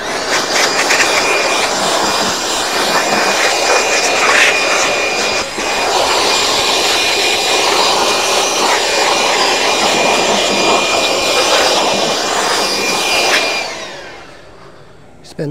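A leaf blower clearing grass clippings off a Zoysia lawn after mowing, producing a loud, steady high-pitched roar for most of the clip before it winds down near the end.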